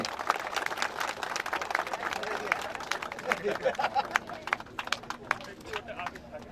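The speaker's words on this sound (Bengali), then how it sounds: "জোরে হাততালি" A crowd claps at the prize ceremony for a green marathon at the Mukutmanipur fair, 2024. The sharp, rapid applause runs steadily throughout, with voices mixed in.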